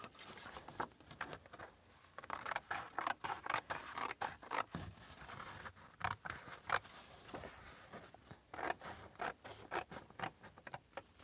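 Scissors snip through material in a quick series of short, close cuts, a rhythmic crisp snipping with brief pauses and no talk.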